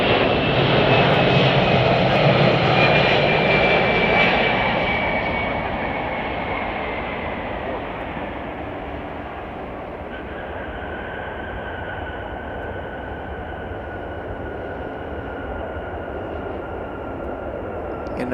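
A United Boeing 767-300ER arriving at Chicago O'Hare airport gives a loud, steady jet engine roar that fades slightly as it passes, followed by a lingering whine.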